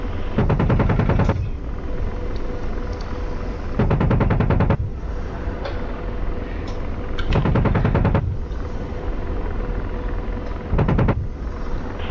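An AH-64 Apache's cannon fires on a vehicle convoy in the DCS combat flight simulator, four loud rapid bursts of rattling gunfire at regular intervals over a continuous rotor drone.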